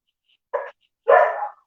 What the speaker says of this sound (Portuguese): O cachorro não para aqui no vizinho, não é meu, tá?